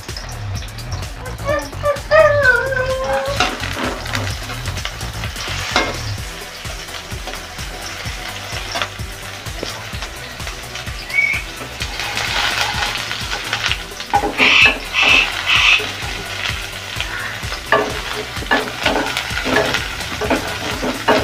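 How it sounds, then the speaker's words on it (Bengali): Chopped onion sizzles steadily in hot oil in a pan while a spoon stirs it, close and continuous with intermittent scraping, during restaurant-style bheja (brain) fry preparation. "এই যে ভাজা হয়ে যাবে, তখন আমি এই পেঁয়াজ কুচিটা তেল আর একটু দিয়ে দিই"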